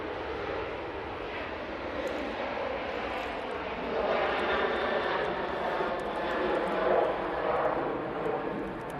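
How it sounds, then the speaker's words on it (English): A small Loganair Embraer ERJ 145 jet arrives at Manchester Airport from Aberdeen, its engines a mid-distance roar that builds partway through and holds there, steady and without talk. "your next arrival is going to be a little Embraer from Loganair from Aberdeen. ERJ 145."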